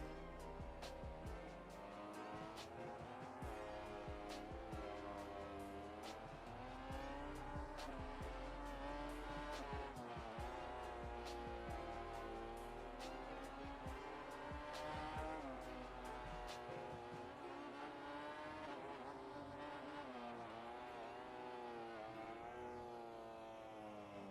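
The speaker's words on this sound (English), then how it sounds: "we'll just listen to this bike for a full lap" A 2009 MotoGP bike in the GPBikes racing game screams through a lap, its engine pitch rising and dropping steadily through shifts and corners, with sharp clicks scattered over the first two-thirds.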